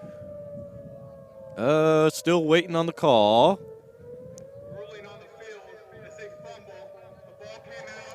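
A noon civil defense siren in Fort Dodge holds a steady, droning tone through the whole stretch, while someone talks loudly over it at a football game broadcast.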